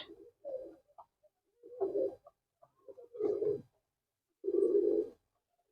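Murshidabadi green pigeons coo in four soft, close bursts separated by short silences, with no talk over them.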